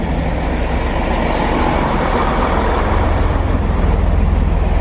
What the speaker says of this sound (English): So here comes my train, the 11:43 to High Wycombe.